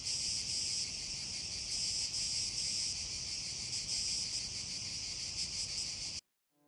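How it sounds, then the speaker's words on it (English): Cicadas drone in a steady, loud, high-pitched shrill that pulses in uneven short and long patterns like Morse code, continuous for about six seconds before cutting off abruptly. "the cicadas are making Morse code noises"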